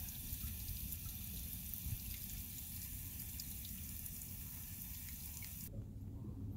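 Water from a tap pours steadily into a 5-gallon bucket in a continuous, even rush that stops abruptly near the end, with no voices.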